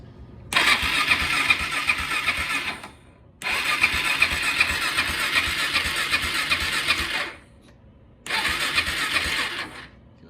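A Kawasaki KFX 400 ATV engine with a newly installed carburetor fires up in three loud bursts, each running steadily for a few seconds before cutting out, with short silent gaps between attempts.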